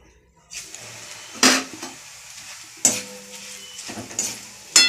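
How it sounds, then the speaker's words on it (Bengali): Flattened rice (chira) frying in oil in a home kitchen, with soft sizzling broken by several sharp clanks of a utensil stirring against the pan, all fairly close. "ছিঁড়েটা আমি ভেজে নেবো প্রথমে তেলে"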